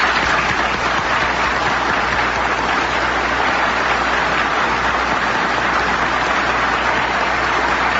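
An audience at a Labor Department gathering claps in steady, sustained applause, a dense even wash of clapping from a full room lasting throughout without pause.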